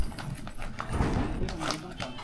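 A horse hauling vegetables near Taytay Falls in Majayjay, Laguna clatters its hooves on a slippery stone path, a few uneven, scraping clip-clops with someone talking over them.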